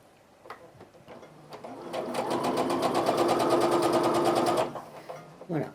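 A sewing machine stitches quilt pieces for a sashing star quilt, running in a steady rapid whir for a couple of seconds after a few soft handling clicks, close and clear, then stopping.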